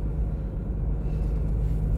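A car slowly turning around on a rough gravel cul-de-sac near a storage facility, a steady low engine and road rumble close by, continuous with no talking.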